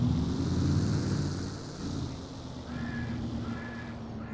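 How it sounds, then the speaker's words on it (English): Birds cawing, crow-like, inside the video game Farming Simulator 22, heard as a few distant calls over a steady wind-like ambient rush. "Shut up, birds."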